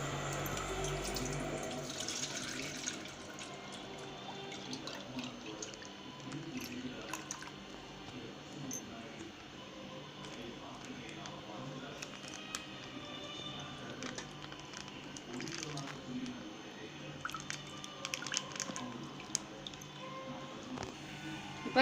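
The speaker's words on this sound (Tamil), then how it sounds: "வந்து பாலை கட் பண்ணி ஒரு பாத்திரத்தில் ஊற்றிக்கலாம்." Milk poured from a cut packet into a kitchen vessel, a soft continuous liquid stream with faint drips and small handling noises, close by with no talking.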